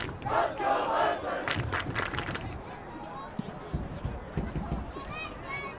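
Student fans at a high school soccer championship chant and cheer together in the stands, a loud organized crowd shout that fades into scattered voices and claps.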